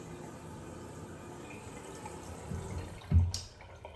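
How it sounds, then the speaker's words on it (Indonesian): Water runs from a tap in a new home's bathroom in Japan, a steady soft rushing stream that swells near the end with a louder splash or knock, no voices. "Kalau ke kanan kita keran, tuh airnya keluar dari keran."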